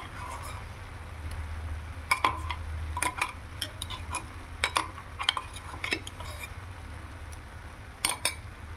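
Cabbage stir-fried with ground spice paste in a pan, with a spatula clinking and scraping the metal at irregular intervals, fairly quiet over a low background hum.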